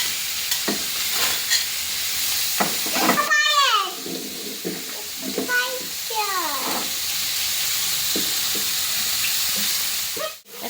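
Eggs fry in a pan with a bright crackling sizzle while a spatula clinks and scrapes; someone talks over the cooking noise.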